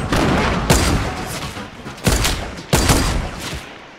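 Gunfire in the video game Fortnite, with loud close shots cracking at regular intervals about every 0.7 seconds over a dense, roaring battle background.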